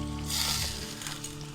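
Water poured into a pan of hot Bengali-style katla fish head curry hisses and sizzles steadily up close, with a slight swell early on before settling, and no talk.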